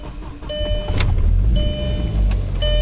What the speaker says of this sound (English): I'm gonna go ahead and start it and see if that was a problem